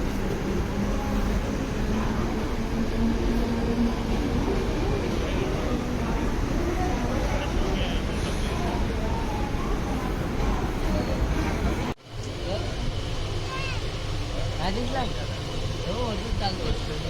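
Steady rumble and clatter of a moving Mumbai local commuter train, with a continuous roar and chatter of passengers talking throughout.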